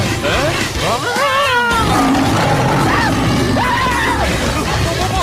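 A kitten meows repeatedly in rising and falling cries, loud and close, with voices talking over parts of it.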